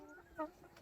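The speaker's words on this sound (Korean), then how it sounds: "마트 닭 밖에 나와 있었네." A single short hen cluck sounds briefly at moderate distance from a farmyard flock, faint and low in level.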